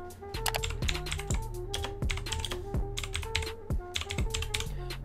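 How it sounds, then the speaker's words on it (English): Fingers tap out a title on a computer keyboard in quick, irregular bursts of sharp clicks, close and clear, with a few brief pauses between words and no voices. "So I'm going to just type that in."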